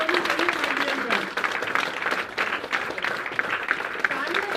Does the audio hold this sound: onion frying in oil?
no